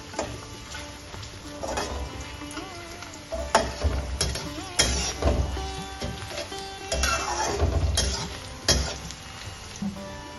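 Green chillies fry in a wok and get a gentle stir, producing a continuous sizzle with scattered utensil scrapes and light metallic clinks throughout, close and moderately loud, with no talking.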